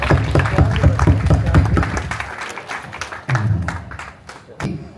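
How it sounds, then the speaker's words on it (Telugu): Audience at a Christian gospel meeting claps to welcome a preacher onto the stage, a close, rhythmic burst of hand claps that fades, then resumes in scattered sharp claps. "అందరం చప్పట్లు కొట్టి మరి వారిని ఆహ్వానిద్దాం"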